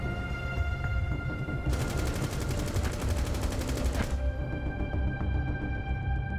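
Sustained rapid automatic gunfire in Rainbow Six Siege, a dense rattling burst lasting a couple of seconds over steady game ambience, with no talk.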